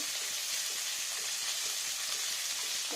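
Onion and ginger paste frying in raw mustard oil for a rohu fish curry, a steady dense sizzle with faint crackles running unbroken and close, no voices over it.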